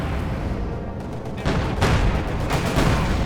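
Soviet Air Force strike in the Company of Heroes 2 video game, a loud dense barrage of gunfire and explosions rumbling continuously with a heavier burst partway through.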